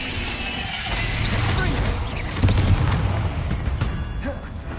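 The Confringo fire spell in Hogwarts Legacy bursts with a rumbling, fiery blast that swells and peaks about halfway through, followed by a crackling, lingering decay at close range.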